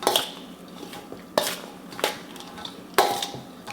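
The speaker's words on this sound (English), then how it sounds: "Let's give those a mix." Sweet and spicy slaw vegetables tossed in a bowl with utensils: a soft continuous rustle broken by three or four sharp clinks of utensils against the bowl, close and alone without talk.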